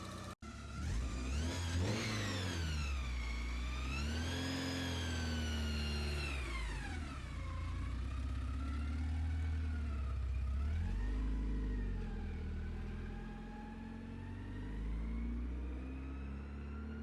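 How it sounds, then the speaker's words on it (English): A Porsche 944 engine on a test drive is heard close and loud in a sustained run, its pitch climbing and falling repeatedly as the car accelerates and eases off, with no talk. "Try and maybe just take it for a test drive up and down the road."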